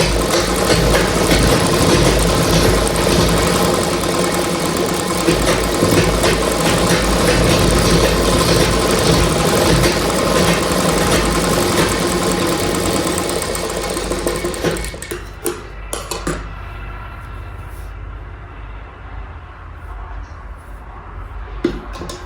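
A tailor's sewing machine stitches a blouse with a loud, steady mechanical whir for about fifteen seconds, then stops, leaving quieter handling noises and faint room sound.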